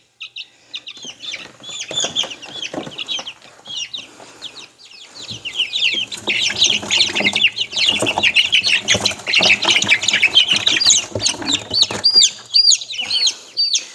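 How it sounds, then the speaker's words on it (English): Young chicks squawk and cluck while being moved to a new home, at first sparse, then a dense, close, continuous chorus of shrill peeps and squawks, with a few quiet flaps of wings. "You like the little chicken?"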